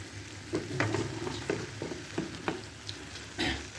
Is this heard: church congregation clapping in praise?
no